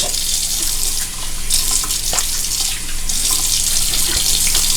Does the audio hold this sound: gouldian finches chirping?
no